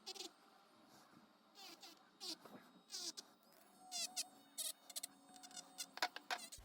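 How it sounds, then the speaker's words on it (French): A sped-up electric sander whining like a mosquito, high buzzy bursts that start and stop in an uneven rhythm, fairly close and moderately loud, with a little background noise. "le bruit de la ponceuse en accéléré, on dirait vraiment un moustique"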